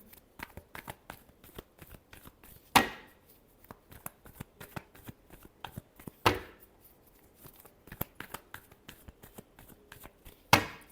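Tarot cards shuffled by hand in a quick run of crisp riffles and flicks, with several louder slaps as the deck is squared, close and clear with no talking.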